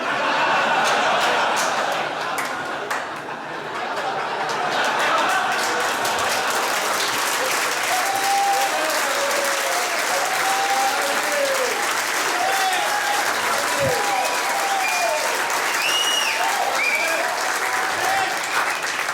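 Comedy club crowd at an Artie Lange stand-up show breaks into sustained applause mixed with scattered laughter and whoops, a loud, dense roar of clapping that carries on steadily throughout.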